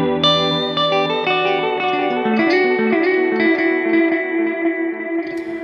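A guitar run through a Strymon Volante tape echo pedal with a single playback head engaged, sustained notes and arpeggiated lines repeating in warm, slightly smeared echoes at steady volume, with no voices.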